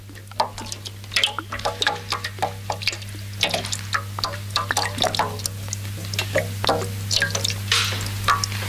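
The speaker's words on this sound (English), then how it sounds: "You listen to the dripping." Water drips in a quiet indoor room, irregular close plinks and splashes falling every fraction of a second over a steady low electrical hum.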